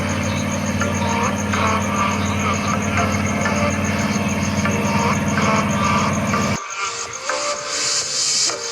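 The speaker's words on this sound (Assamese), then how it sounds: "এইখন ভুটভুটি নাও।" A bhutbhuti motorboat engine running on a flooded river, a loud steady close diesel drone with a rhythmic thrum that cuts out near the end, leaving hiss and background noise.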